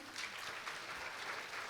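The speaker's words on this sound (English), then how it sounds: "I think they deserve a big round of applause." Brief burst of audience applause following the speakers at a medical and paramedical career seminar, a soft but even spread of many hands clapping without talk.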